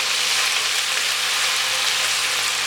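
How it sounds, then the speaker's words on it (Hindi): Ginger garlic paste frying in hot oil for chicken karahi, giving a loud, dense, continuous sizzle like steady hiss that holds evenly throughout, close up with no talking. "अब हम इसमें ये अदरक लहसुन का पेस्ट डालते हैं। अब हम इसको भूनेंगे।"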